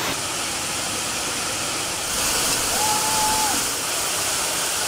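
A Wisconsin waterfall roars as a loud, steady broadband rush that stays constant throughout, with a faint tonal whine in the middle.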